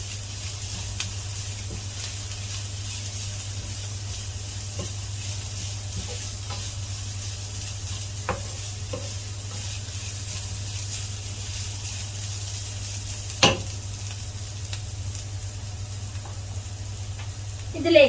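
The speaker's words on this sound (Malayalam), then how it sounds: "തേങ്ങയും കൂടെ തിരുമിയത് ഇട്ട് കൊടുക്കുകയാണ്. എല്ലാം കൂടി ഇളക്കി യോജിപ്പിച്ച് കൊടുക്കുകയാണ്." Pappadam thoran with grated coconut and turmeric is stirred in a pan: a steady, soft sizzle runs throughout, broken by a few sharp scrapes and taps of the spoon against the pan. No voices.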